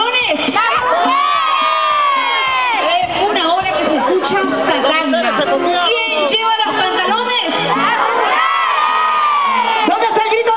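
A large festive crowd of men, women and children cheers, shouts and whoops in call-and-response at an anniversary celebration in Puente Piedra, a loud continuous din of many voices throughout.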